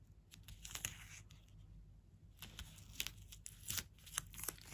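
Double-sided tape being torn and pressed into place while decorating a Christmas tree ornament, giving short crinkly tearing and rustling bursts, close and fairly quiet, with no talking.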